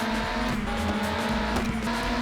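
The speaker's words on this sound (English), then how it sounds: "This car is buzzing behind me though" Race car engine in the PS1 game Le Mans 24 Hours, a loud steady buzzing drone close by with a constant pitch, running throughout with no talk over it.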